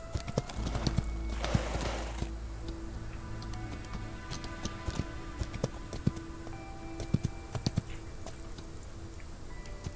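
Pony hooves from a cowboy video game, a quiet irregular clip-clop of hoofbeats, with one brief burst of noise near the start and no voices.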